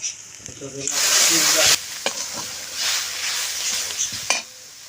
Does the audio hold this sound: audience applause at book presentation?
no